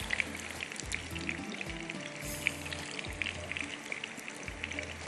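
Koftas frying in hot oil, giving a steady broadband sizzle and crackle with small pops throughout, fairly quiet and unbroken, with no talking.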